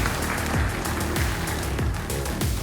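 Applause from a fight-event crowd for both fighters after a bout, a steady dense wash of clapping that fills the whole stretch without any clear speech.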